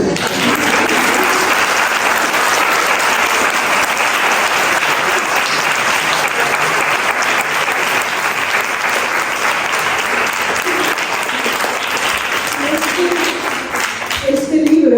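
Sustained, dense applause from an audience at a Spanish book presentation, steady and loud throughout, with a few voices and cheers rising near the end.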